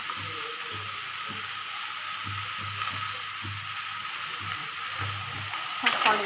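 Tomatoes fry in a pan while being stirred, giving a steady sizzle with soft, irregular scraping strokes throughout and a brief clatter near the end. No one speaks.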